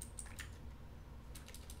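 Quick, light keystrokes tap on a computer keyboard during a login on a Proxmox server install, with short bursts of clicks close by and a brief pause in the middle.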